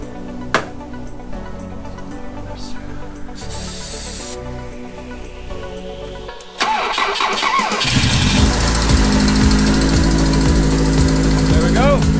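A BMW 2002 engine cranks and fires into a loud, steady running note, with a short whirring crank before it catches and a rough mid-pitched roar after, heard close. Voices are present.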